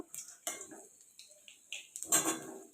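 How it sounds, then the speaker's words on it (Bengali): A spoon clinks and scrapes against a pan as panch phoron and a bay leaf are stirred in oil, in short separate bursts with quiet gaps and only a faint sizzle between them. "ফোড়নটাকে একটু নাড়াচাড়া করে নিচ্ছি"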